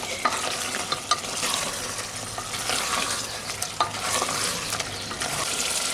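Mutton being stir-fried in a pressure cooker, with a continuous close sizzle and the scrape and clatter of a spatula repeating in an uneven rhythm.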